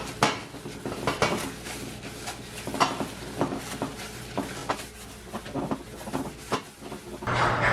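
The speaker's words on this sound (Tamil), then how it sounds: "இப்போ இந்த தாச்சிக்கு பூசி விடுவோம்" A cooking pan for appam being oiled, with metallic clinks, scrapes and knocks of the pan and utensil coming in irregular bursts, close and fairly loud, with no talk.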